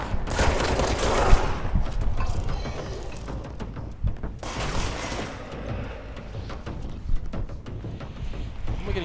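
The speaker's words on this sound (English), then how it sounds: "Where am I getting shot from?" Rapid gunfire bursts and mechanical rattling from a shooter video game running on a low-end PC with Intel HD 620 graphics, loud and dense at first, then easing into scattered shots and clatter.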